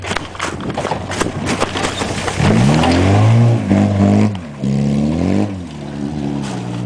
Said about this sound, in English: Listen to that 1800 straight rip.